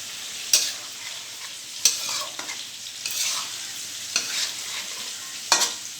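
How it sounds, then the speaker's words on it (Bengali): Ghee-boiled potatoes are stirred in a pan for vegetarian biryani. A spoon gives several distinct scraping clanks at uneven intervals over a soft, steady sizzle, with no voices. "দিয়ে এটা দিয়ে আরেকটু নাড়িয়ে নেব।"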